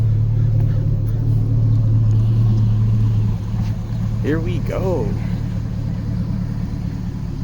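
A 2006 GMC Sierra 1500 SLE Crew Cab Z71 pickup running with its muffler removed idles in a deep, steady, close rumble that eases slightly midway, with someone briefly speaking over it.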